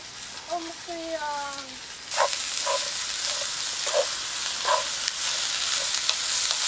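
Ginger coconut soup is stirred and fried in a pot over a campfire, a steady sizzle with occasional scraping stirs. A voice speaks briefly at the start.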